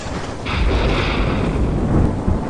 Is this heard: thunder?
yes